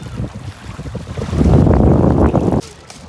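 Cold wind buffets the microphone beside sea waves at Oido Beach, South Korea, with a loud sustained rush of surf and wind that cuts off abruptly near the end.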